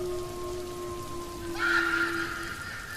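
Heavy rain pours down outdoors as a soft, continuous hiss that swells briefly into a louder rush partway through, with a low steady tone humming underneath.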